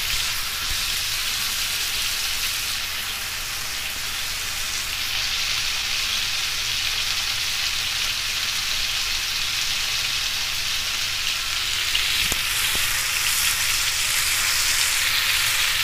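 Tandoori chicken pieces fry in hot oil with a loud, continuous crackling sizzle that holds steady throughout, close up, with one sharp tap near the end.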